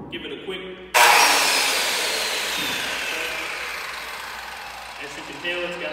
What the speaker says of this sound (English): Want to make sure that we have two hands on the saw when we test it